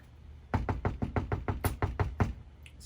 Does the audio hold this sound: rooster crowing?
no